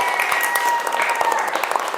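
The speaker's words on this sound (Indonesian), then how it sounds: "Tepuk tangan untuk kita semua." A class in an Indonesian teacher-training practice lesson claps together at the end of the session, a dense, steady burst of hand claps for about two seconds.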